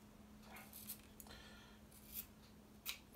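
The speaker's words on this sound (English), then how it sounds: "Let's snip it and burn it." Scissors snipping through paracord, three quiet, sharp cuts spaced about a second apart over a low steady hum, with no talking.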